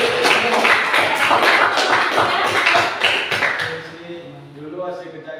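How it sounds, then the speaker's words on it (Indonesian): A classroom of students claps for group 3 in a brief burst of loud clapping that fades after a few seconds into quieter room sounds and faint voices. "Tepuk tangan untuk kelompok 3."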